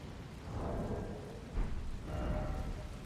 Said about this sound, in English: Ball lightning.